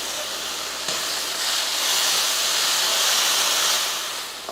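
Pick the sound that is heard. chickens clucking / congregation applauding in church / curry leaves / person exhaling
curry leaves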